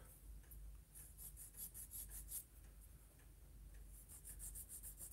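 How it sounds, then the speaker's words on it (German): Sanding a small plastic part from a Turn A Gundam model kit, a faint, close, repeated rubbing and rasping in short strokes over quiet background hiss. "So, schleifen wir das hier noch ab."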